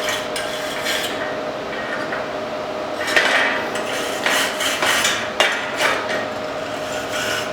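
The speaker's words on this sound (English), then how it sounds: "I'm just going to use a stainless steel brush that I use on my aluminum." A stainless steel wire brush scrubs the joints of an aluminum cube before welding, giving rough, scratchy metallic strokes in uneven bursts with a few sharper clanks, fairly close and steady throughout.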